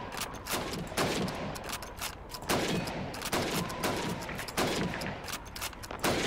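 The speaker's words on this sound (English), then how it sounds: "15 seconds to shoot the helmets" A rifle fires repeatedly at helmet targets in the video game Call of Duty 2, with loud, sharp shots coming about once a second, each one trailing off in a short echoing decay.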